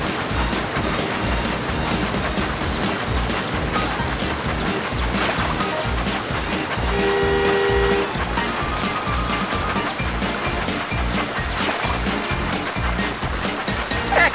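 Rushing water on the wild water slide at Water Slide Mountain in the Thomas and Friends: Magical Tracks game, a continuous splashing stream under upbeat game music, with a brief chime partway through.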